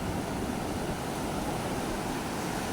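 Sea waves wash around a boat in a steady, dense rush of surf and water noise, close and fairly loud throughout, with no voices.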